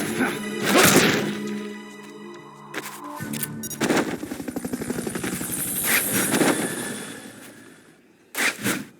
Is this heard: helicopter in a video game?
yes